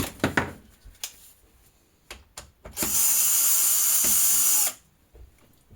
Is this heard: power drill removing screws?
yes